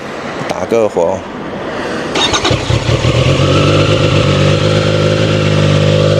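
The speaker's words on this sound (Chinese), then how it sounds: "帮我捏一下离合器，我们打个火" A CFMOTO 675SR sport motorcycle, cold and fitted with a larger exhaust, cranks and fires up, then settles into a loud, steady high idle around 2000 rpm close by, with a voice speaking briefly at the start.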